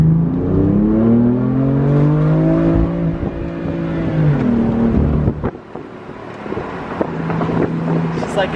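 A BMW M4 Competition engine rumbles deeply nearby, revving and easing off, then dropping to a low burble with wind buffeting the microphone.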